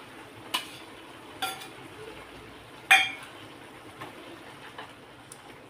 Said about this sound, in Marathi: थोडंसं गरम दूध घालून घेतलं ह्याच्यात आणि हे मिक्स करून घेते ह्याच्यात